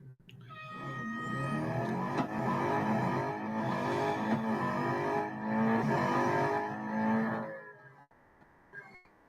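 Race car engine in the Real Racing 3 mobile racing game during an autocross event, a steady sustained engine drone with shifting pitch that holds loud and continuous for about eight seconds, then cuts off abruptly.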